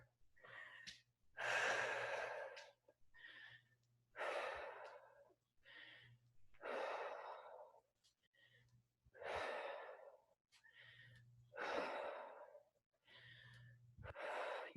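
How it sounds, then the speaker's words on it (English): Heavy, rhythmic breathing during a HIIT squat-and-push exercise: about ten forceful gasping exhales and inhales at steady intervals, close and loud, with a faint low hum underneath. "You really do have to coordinate your breathing with the movement, or else you'll get gassed."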